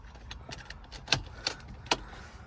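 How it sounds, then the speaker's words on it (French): Ignition switched on in a SEAT Leon 2.0 TDI, heard as a few sharp clicks and key jangles inside the car against a quiet cabin, with a faint electrical whir between them. "Tu peux mettre le contact."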